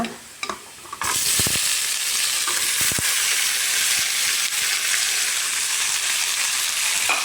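Chicken drops into a pan of frying masala for a Kerala-style chicken roast; after a few light knocks, a loud, dense sizzle erupts and holds steady as it is stirred.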